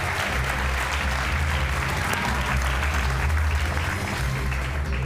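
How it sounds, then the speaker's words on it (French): Loud, dense applause from an evening ceremony audience greeting challengers Victor and Ilias, a continuous close roar of clapping with no pauses. "on peut les applaudir"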